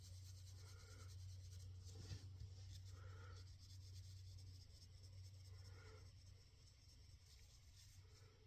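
Tight little circles drawn on paper make faint, soft scratching strokes over a low background hum.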